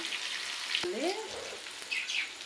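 Stuffed bitter gourds fry in a pan with a soft, faint sizzle, while bird chirps and whistles sound in the background.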